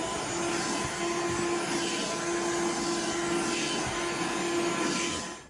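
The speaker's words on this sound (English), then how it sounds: "so now I'm finished vacuuming up the poop" Vacuum cleaner steadily sucking up guinea pig poop pellets from a cage, a loud continuous whine with a constant hum running the whole time, close to the microphone.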